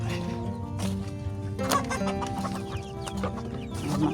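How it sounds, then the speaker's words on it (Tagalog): Several chickens cluck and squawk nearby in irregular bursts, with a sharper cackle partway through over quiet outdoor background. "Daming manok."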